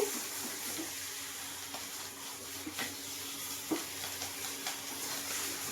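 Washed chicken leg pieces are stirred in a hot pan, giving a soft, steady sizzle with scattered scraping and clinking as they are mixed.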